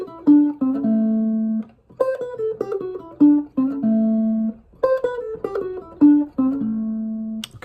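An electric guitar plays a Chicago blues passage up to speed, with quick picked phrases that repeat in short bursts, some notes left ringing, clear and close with no voices.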